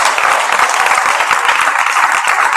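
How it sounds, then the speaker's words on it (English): Steady, dense applause from a school audience at a secondary prizegiving, clapping continuously and fairly loudly as winners walk up, with no voices standing out. "give them a clap as they come up"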